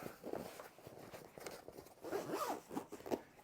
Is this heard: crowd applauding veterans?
no